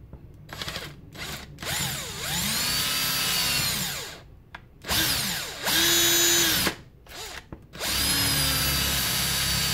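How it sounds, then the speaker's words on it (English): A power drill whines loudly in several long bursts with short pauses between, its pitch shifting as the bit drills out a brass Nerf Retaliator breech. "So just drilling that out."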